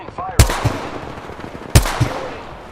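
Gunfire in a video game: two sharp, loud shots about a second and a half apart, each followed by a short echoing tail, with faint talk in the background.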